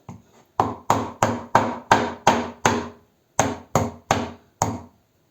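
Whole radishes are struck with a hand tool to crack them open. There is one faint tap, then eleven loud, sharp whacks in a steady rhythm, with a short pause after the seventh, and no voices.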